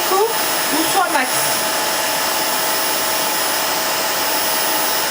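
A Jimmy JV9 Pro Aqua wet vacuum cleaner runs nearby with a loud steady motor whine and airflow rush, a brief rising whirr at the start, holding constant throughout.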